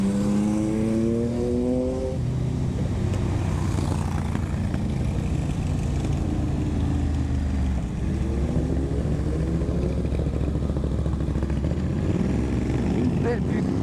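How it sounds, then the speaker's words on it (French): A Ducati Monster motorcycle fitted with a Termignoni exhaust passing on a twisting mountain road, its engine note rising and falling over the steady close drone of the rider's own Suzuki GSX-8S and wind noise. "Une belle butte du Ducati Monster avec un petit échappement Terminioni, très joli."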